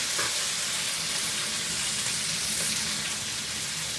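Lamb keema sautéing in a pan for keema aloo matar, a loud, unbroken sizzle and hiss filling the whole stretch, with no talking.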